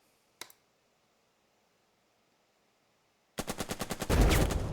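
A single sharp gunshot cracks in the Burden of Command wargame, then after a long silence a loud rapid burst of automatic gunfire rattles out in quick repeated shots that swell into a sustained roar.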